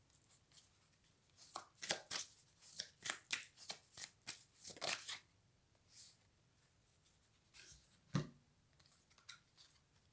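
Tarot cards shuffled and drawn from a deck at close range, a run of crisp papery flicks and slides, quick and clustered early on, then sparser soft snaps, with no voices.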